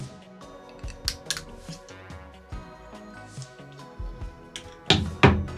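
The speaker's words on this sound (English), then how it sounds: "so we have to cut them out of the cardboard" Scissors snip and crunch through cardboard to free small electronics push buttons for a breadboard circuit, giving a close series of sharp cuts and rustles with a louder pair of snips near the end.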